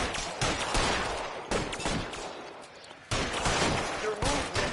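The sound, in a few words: gunfire in the video game L.A. Noire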